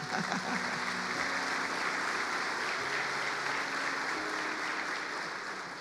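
A church congregation applauds during a sermon, a sustained, fairly soft wash of clapping from many people in a large room, with faint background hum and no clear voices over it.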